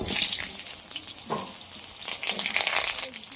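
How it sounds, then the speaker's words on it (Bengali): Cut, washed pointed gourd pieces drop into hot mustard oil, giving bursts of spattering sizzle that rise and fall, with watery crackles mixed in. "গরম তেলের মধ্যে কেটে ধুয়ে রাখা পটলগুলো দিয়ে দেব।"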